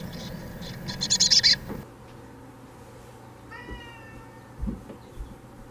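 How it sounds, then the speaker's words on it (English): A domestic cat meows in a short burst of excited calls while watching black-capped chickadee fledglings leave a nest, followed by quieter thin chirps and soft thumps in a calm room. "Yeah, the cat's excited too."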